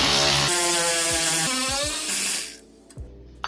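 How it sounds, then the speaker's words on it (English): A power tool whirring loudly as a tie-rod end nut is loosened on a Jeep Wrangler YJ during a steering repair, a sustained high whine with a few dropping pitch sweeps before it cuts off into near silence. "Take my ratchet and loosen this nut up."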